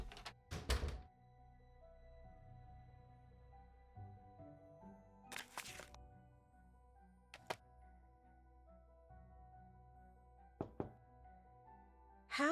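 A door creaks open in the Nancy Drew game Warnings at Waverly Academy, with a sharp knock-like thunk near the start, another loud clunk mid-clip and a few lighter clicks over a quiet ambient hum.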